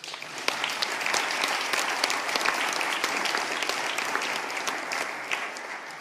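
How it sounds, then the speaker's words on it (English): An audience at a university end-of-year celebration claps for a student group, with a sustained, dense wash of many hands clapping at an even level throughout. "So let's clap for that group again."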